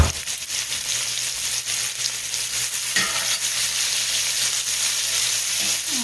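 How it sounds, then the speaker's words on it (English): Onions sauté in a pan for smothered hamburger steak, making a continuous near sizzle with occasional spatula scrapes and clicks, heard alone without talk. "Those onions, as they're sauteing here, are going to add a lot of flavor to this"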